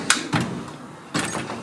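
Tool drawer in a garage shut with a sliding rattle and clunk, a few short sharp impacts followed by another longer metallic slide, close and fairly loud.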